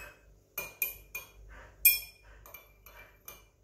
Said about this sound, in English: I'm just going to use my straw, we'll just give it a bit of a stir